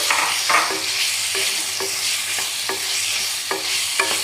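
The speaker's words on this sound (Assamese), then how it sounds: "এতিয়া ভালদৰে সয়াবিনখিনি মছলাখিনিৰ সৈতে ফ্ৰাই কৰি ল'ম" Soya chunks being stirred and fried with masala in a pan, with a continuous hiss of sizzling oil and spaced spatula scrapes roughly every half second to second, close and steady, no voices.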